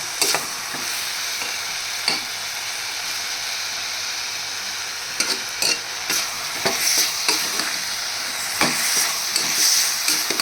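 Puri curry frying in a pan gives a steady, close sizzle, broken by sharp scrapes and taps of a stirring spoon that grow busier toward the end.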